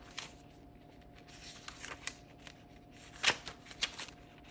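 Pages of a vintage paper junk journal, made from book pages, envelopes and receipts, are flipped through, giving soft, close rustles and a few sharper papery flicks at an irregular pace.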